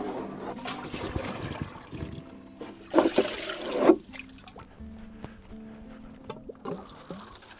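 Water pours and trickles onto a newly planted vegetable raised bed, with uneven splashing that surges in a couple of louder bursts near the middle against a quiet background.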